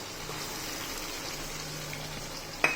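Tomato puree poured into a masala paste in a hot pan, giving a soft, steady sizzle and bubbling that holds evenly, capped by a brief sharp clink near the end.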